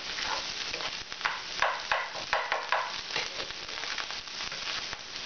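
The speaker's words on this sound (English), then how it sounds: "So, I mix this in well now." Vegetarian Japanese fried rice is tossed and mixed in a hot pan, giving a busy close scraping and gentle sizzle with rhythmic clacks of a utensil, fairly steady throughout.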